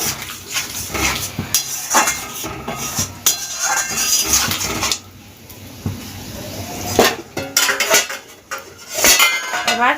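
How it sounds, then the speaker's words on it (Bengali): Marinated mushrooms stirred into a simmering gravy in a pan, heard as repeated metal clinks and scrapes of a utensil against the pan in uneven bursts, close and fairly loud, with a quieter bubbling stretch in the middle. "যে মাশরুমটা ম্যারিনেট করে রেখে দিয়েছিলাম সেই মাশরুমটা এর মধ্যে দিয়ে দিলাম ভালোভাবে মিশিয়ে নেব"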